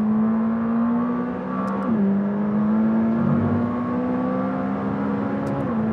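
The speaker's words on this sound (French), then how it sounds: "on va laisser un petit peu chanter le moteur" A 2018 McLaren 600LT engine revving hard while accelerating, a loud, sustained rising drone heard from the cabin, with brief dips at gear changes and no talking.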